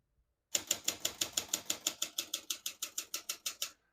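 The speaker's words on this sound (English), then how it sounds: "all the keys type nice and none of them skip or stick" Typewriter keys struck on a 1965 Olympia SF portable typewriter, about seventeen crisp, evenly spaced clacks in a steady rhythm, close and clear with no talking.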